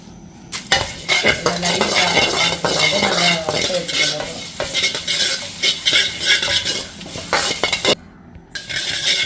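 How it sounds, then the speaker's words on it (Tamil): Spice powder dry-roasting in a pan comes through as loud, busy, close-up scraping and stirring with metallic clatter against the pan and a faint sizzle underneath, pausing briefly near the end. "நான் இப்போ தூளை வறுக்க போகிறேன்"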